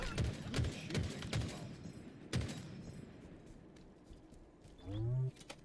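Gunfire from a Halo video game: several sharp, loud shots early on with one more burst a little later, over a dense roaring battle background, followed by a brief tonal game sound.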